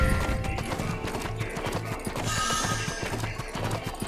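Horse hooves clip-clopping in a steady rhythm with a whinny, from a horse called in the Western mobile video game Six Guns, loud and close over game music.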